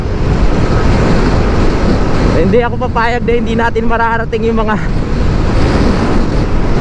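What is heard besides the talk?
strong wind on a viaduct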